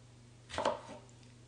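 A knife cuts through a red pepper on a board for a salad, one quick crisp slice followed by a softer second stroke, close and clear in a quiet kitchen.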